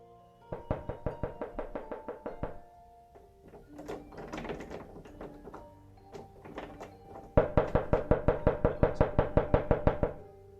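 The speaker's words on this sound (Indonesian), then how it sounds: "orang yang tadi mengetuk-ngetuk bahkan mencoba masuk untuk ke rumah TSV itu pun pergi" Rapid bursts of knocking on the door of a house, played in two long volleys of a dozen or more raps each with a scuffling, rattling interval between them, the second volley louder and closer.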